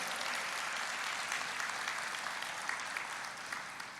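A church congregation applauds together during a worship service, a steady, dense wash of clapping that holds evenly for several seconds with no voices rising above it.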